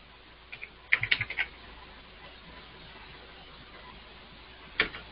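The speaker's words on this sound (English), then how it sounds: "I'll type it out in text" A computer keyboard is typed on in short, quiet bursts of key clicks, a quick cluster early and another brief tap near the end, set against a faint room hiss with no talk.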